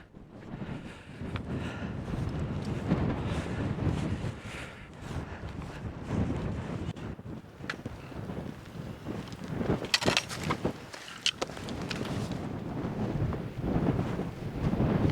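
Strong wind buffeting outdoors on a hill on a sunny day, a continuous rough rumble with gusty swells and occasional sharp knocks, steady throughout.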